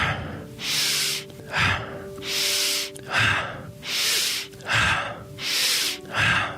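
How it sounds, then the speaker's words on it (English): Close-up breathing exercise with repeated inhales through the nose: about five cycles, each a longer airy intake followed by a shorter exhale, steady and loud. "I am inhaling through the nose."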